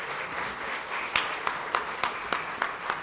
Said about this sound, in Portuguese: Uma salva de palmas para Jorge Reis.